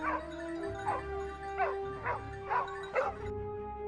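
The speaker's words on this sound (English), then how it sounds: "With their sharp noses and extraordinary hunting instincts, our dogs quickly track down a wild boar." Hunting dogs yip and bark in quick, repeated bursts while tracking a wild boar across snow, about six sharp yelps over a steady low background rumble.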